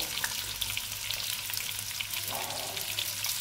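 Potatoes with turmeric fry in a pan with a close, dense crackling sizzle, steady and unbroken for a few seconds, with no talking.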